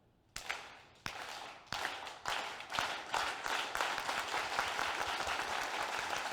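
A group claps together at a community town hall, starting with slow, widely spaced unison claps that gradually speed up into a dense, fast crescendo of loud applause-like clapping.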